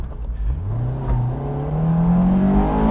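A Honda S2000 engine revs up hard toward its 8,000 RPM redline, VTEC engaging, its pitch climbing steadily toward a high, strained whine, loud and close.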